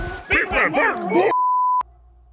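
A person imitates a dog with yipping, whimpering bark sounds in a short run of voiced yelps, then a steady electronic beep cuts in and stops abruptly.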